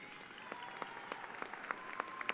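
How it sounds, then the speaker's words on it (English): Audience applause at a 2025 undergraduate commencement ceremony, a steady wash of many hands clapping with a few sharper claps standing out, moderately loud and continuous with no talking. "Give them a round of applause."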